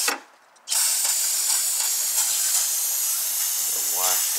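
Brake cleaner hisses in a steady, close aerosol spray onto the transmission of a 2004 Ford Taurus, starting abruptly after a brief pause and continuing without a break.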